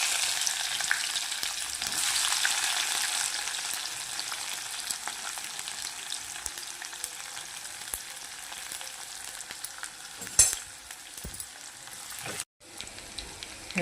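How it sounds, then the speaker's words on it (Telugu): Chopped onions frying in tempering oil for an aloo curry, with a loud, dense hiss of sizzling that carries on steadily, one sharp clatter near the end and a short drop in level just after. "తాలింపు వేశాక దానిలోకి ఉల్లిపాయలు"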